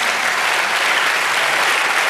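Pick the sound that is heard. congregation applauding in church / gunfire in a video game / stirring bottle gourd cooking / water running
congregation applauding in church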